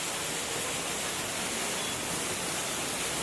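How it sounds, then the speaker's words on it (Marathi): Heavy downpour and rushing water over flooded roads in the Chakan MIDC industrial area form a dense, unbroken roar with no voices. "कशा पद्धतीने या परिसरामध्ये मुसळधार पाऊस सुरू आहे"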